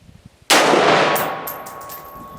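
A single sharp rifle shot from an Anderson AM-15 firing 55 grain ammunition, loud and close, with a long ringing decay and faint metallic pings trailing after.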